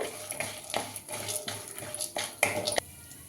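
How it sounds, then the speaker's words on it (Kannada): Peanuts fry in a pan while a metal spoon stirs them, giving steady, rhythmic scraping clinks about three times a second with a faint sizzle underneath. "ಕಡಲೆ ಬೀಜ ಒಂದು ಸ್ಪೂನು ಇದಿಷ್ಟನ್ನು ಕೆಂಪಿಗೆ ಫ್ರೈ ಮಾಡ್ಕೋಬೇಕು"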